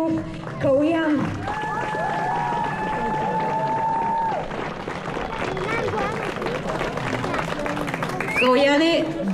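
An audience applauds steadily for several seconds, with dense clapping and some crowd noise, while a voice speaks over the start and end and a brief tonal cue plays early on.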